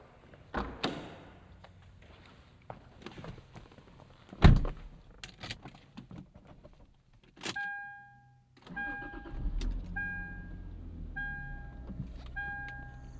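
A Japanese rear-wheel-drive sedan nearby: door clunks, then the engine cranks and fires, settling into a steady running note with electronic chimes as the car pulls away. No one speaks.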